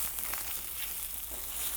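Okra frying in a pan with salt added, giving a steady, dense sizzle throughout, close and fairly loud with no talking.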